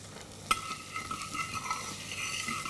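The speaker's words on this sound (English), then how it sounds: "we're just going to very gently sweat these down" Onion and garlic with thyme and a pinch of salt gently sweating in a pan, a soft steady sizzle opened by a sharp knock of the utensil, then quiet stirring scrapes.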